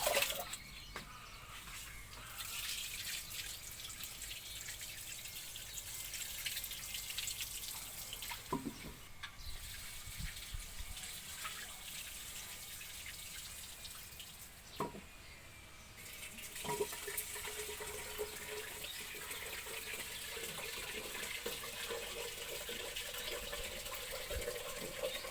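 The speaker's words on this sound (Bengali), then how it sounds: "চাউলগুলি এখন ধুয়ে নিচ্ছি, ভাতের চাউলগুলি" Rice grains being washed under a running kitchen tap: a steady, close rush of water with a few brief splashes and clinks, and no talking.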